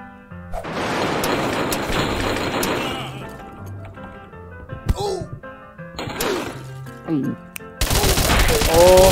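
Video game gunfire crackles in rapid bursts and volleys, mixed with crashes, thuds and other game effects, while a voice talks over much of it.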